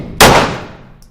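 A single loud, close FN gun shot cracks out after a brief silence, its sharp report tailing off quickly.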